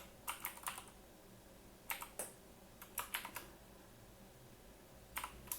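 Bursts of computer keyboard typing, quick clusters of key clicks separated by pauses, close and clear against a faint room hum.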